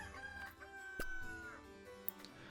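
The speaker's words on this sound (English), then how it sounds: "It's a new day, says the cockerel." A rooster crows at daybreak in the village-building game Kingdoms and Castles, a fairly quiet harmonic call that sits among soft game ambience and small clicks.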